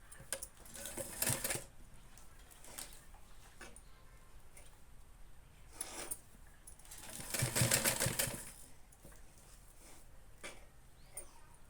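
A sewing machine stitches contrasting piping onto the cup of a princess-cut blouse in two short whirring bursts, one early and one louder near the end, with quiet pauses between.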